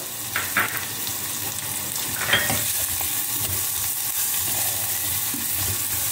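Green chillies and chopped onions fry in a hot pan, giving a steady close sizzle with a few brief stirring scrapes near the start and one louder stir halfway through.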